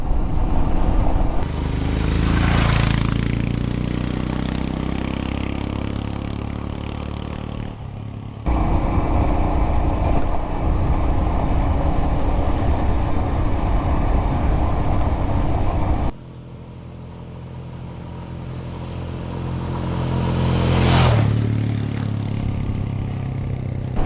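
An adventure motorcycle ridden along a forest trail in a South Carolina national forest, its engine droning steadily close by with rising and falling revs, wind buffeting and an abrupt change in tone partway through, no talking.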